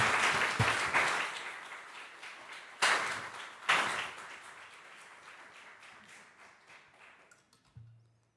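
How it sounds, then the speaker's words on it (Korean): A church congregation applauds to welcome a visiting missionary, a burst of clapping that fades, flares up again twice, then trails off before a final soft knock. "다 같이 박수로 선교사님 환영하시겠습니다."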